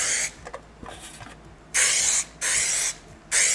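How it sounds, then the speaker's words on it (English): Cooking spray hisses onto a baking pan for banana bread. One short burst is followed by three longer, loud, close sprays with small gaps between them and quiet handling sounds in between. "cooking spray."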